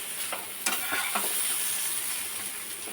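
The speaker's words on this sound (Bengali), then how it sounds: "এটাও একটু নাড়াচাড়া করে নিই নাহলে আবার ধরে যাবে" Kashmiri chilli powder and turmeric being stirred in a hot frying pan, a soft continuous sizzle with a few quick scraping strokes of a spoon, fairly quiet and close.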